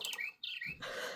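A small bird chirps in short bright tweets, close and clear, with a brief gap before a final burst; no talking.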